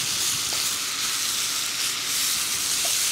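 Tomato paste sizzles and toasts in a pan as it is stirred while a fennel and lentil pie filling is being made. The hiss is bright, steady and close throughout, with no voices.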